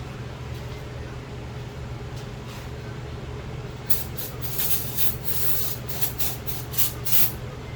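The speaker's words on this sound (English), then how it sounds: "Out of starting fluid, we're trying brake clean." Brake cleaner sprays in repeated bursts into the 327 small-block engine of an auction-bought 1966 Chevy Nova wagon, loud hissing blasts over a steady low engine-bay hum.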